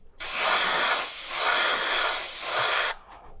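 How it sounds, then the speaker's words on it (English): A Badger Extreme airbrush sprays Lifecolor primer paint in one steady, close hiss of about three seconds that starts and stops abruptly, with no talking. "it's perfectly sprayable, in this case through a Badger Extreme paint strip"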